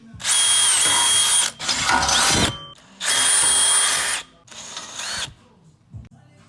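A step drill bores half-inch holes in an LS-swapped Camaro exhaust pipe for O2 sensor bungs, two loud whining bursts of cutting with shorter grinding pauses between, close up and with no talking.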